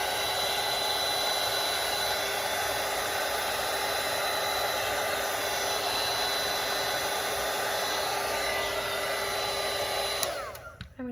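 A hair dryer blows steadily and loudly on a watercolour painting of an inukshuk landscape, a close, constant whooshing roar that shuts off near the end, with no talking.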